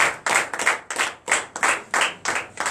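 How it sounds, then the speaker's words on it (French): A church congregation at a Sunday worship service claps in a steady, rhythmic beat to acclaim the Lord, loud and close, with about eight even claps in quick succession. "Acclamons le Seigneur."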